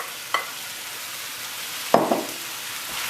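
Browned lamb and onions for a slow cooked curry tipped back into a hot pan, a soft steady sizzle with a couple of sharp scraping, clattering hits from the pan and spoon.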